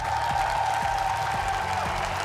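Applause from an audience for a dancer at a show in Central Asia: a steady, dense wash of clapping that holds at an even level throughout.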